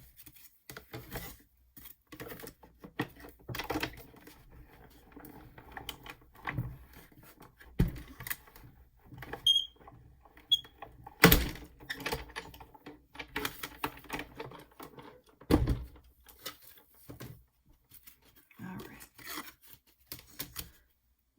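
Die-cutting machine cranked by hand to roll cardstock and a metal die through, quiet scattered ratcheting clicks and rubbing with a few sharper knocks, close up and irregular.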